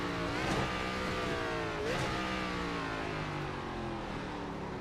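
A race car engine in the iRacing sim game revs loudly and continuously, pitch climbing and dropping through gear shifts, with no voices over it.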